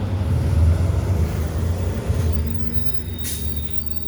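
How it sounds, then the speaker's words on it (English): A city bus pulls up close by, with a heavy low engine rumble and a thin high squeal of brakes that fade as it comes to a stop. "damn, another bus pulled up."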